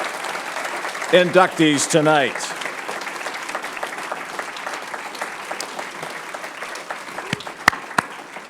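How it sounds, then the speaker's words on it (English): A ceremony audience at the 2019 Bellevue University Athletics Hall of Fame breaks into applause for the inductees. Someone speaks over the start, then a steady roomful of clapping carries on alone for several seconds. "One final round of applause for the collective 2019 Bellevue Athletic Hall of Fame"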